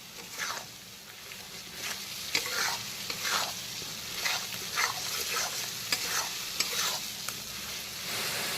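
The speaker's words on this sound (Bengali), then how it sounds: "পুরো রান্নাটা কিন্তু একটুখানি সময় নিয়ে ধৈর্য ধরে একটুখানি কষিয়ে কষিয়ে স্টেপ বাই স্টেপ করে নিতে হবে" Masala sautéing in a pan for katla fish curry, a steady close sizzle with repeated scraping stir strokes in a slow rhythm, no voices.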